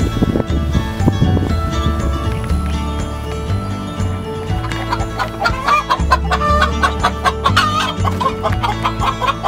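Backyard hens clucking near a nest, repeated short clucks running through the whole stretch over a busy, cluttered background with other birds and sounds mixed in.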